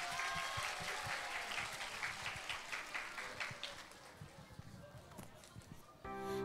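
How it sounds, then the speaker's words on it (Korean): Sustained applause from a church audience at a Christmas Eve celebration greets a middle school group, with dense clapping that gradually thins and voices briefly heard at the start and near the end. "우리 열심히 준비한 중등부 친구들에게 큰 박수 부탁드립니다."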